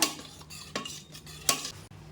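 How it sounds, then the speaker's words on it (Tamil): Tomato lentil sambar stirred in a pot after the tempering goes in, a few wet scraping strokes of a spoon with sharp metal clinks against the rim, no talk. "இப்போ நல்லா மிக்ஸ் பண்ணிக்கோங்க"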